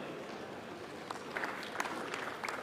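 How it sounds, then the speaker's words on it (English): Audience applause at a Kenyan national conversation forum: a steady, diffuse patter of many hands from a distant crowd, with a few sharper claps poking out midway, quiet and unbroken by speech. "a round of applause"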